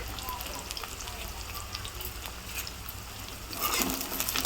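Peanuts, curry leaves and onion fry in hot oil, a dense close crackling sizzle that swells louder near the end, with a voice faintly underneath.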